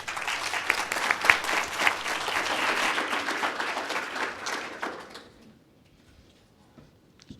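An audience claps to welcome panelists at a speaker series event on public education funding, a sustained round of applause from a crowd that fades out toward the end, followed by near silence.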